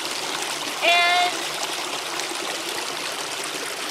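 A Wyoming river flows in a steady, broadband rush of water, constant and fairly close, with a brief whistle-like tone and a single spoken word early on.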